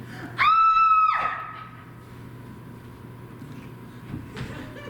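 A woman screams during a stage play, one loud, high, sustained shriek that slides downward and cuts off after about a second, leaving quiet room tone with faint stage movement.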